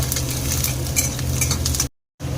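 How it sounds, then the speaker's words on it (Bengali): Chopped garlic fries in hot oil, likely mustard oil, giving a dense, loud sizzle with light stirring scrapes, then a brief drop to silence before the crackle resumes. "প্রথমে রসুনটাকে দিয়ে একটু ভেজে নেব"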